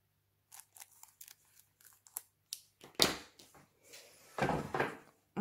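Scissors cut a paper card in half while a greeting card is being made, giving a series of close, crisp snips and rustles in short irregular bursts with no talking.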